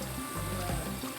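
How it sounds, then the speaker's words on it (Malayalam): Water pours into a pot of Kerala-style duck curry with tomato and carrot, a steady continuous stream under light kitchen background, no talking. "വെള്ളം ഒഴിക്കണം"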